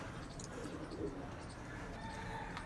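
Pigeons coo faintly against a steady background hiss, with soft bird calls blending into the ambient noise during a short stretch.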